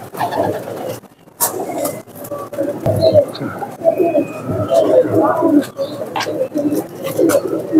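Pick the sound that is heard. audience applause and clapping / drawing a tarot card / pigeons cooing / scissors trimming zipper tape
pigeons cooing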